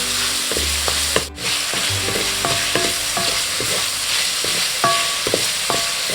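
Chicken thigh fillet sears in a hot pan for japchae, a steady broadband sizzle running throughout with brief stirring clicks and scrapes scattered over it, close and fairly loud, no talking.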